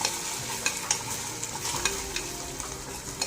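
Sweet corn with chili flakes, red chili sauce and ketchup sizzles softly in butter as a spoon stirs it. The scraping comes in irregular, close, light taps over the steady sizzle.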